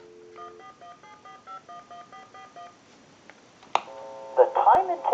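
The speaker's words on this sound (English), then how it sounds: "we'll use a tone dialer to call a time and temp number" A tone dialer beeps out a telephone number into a Stromberg Carlson candlestick telephone, a steady run of short paired DTMF tones followed by a clunk and a louder burst of ringback or recorded-announcement tones.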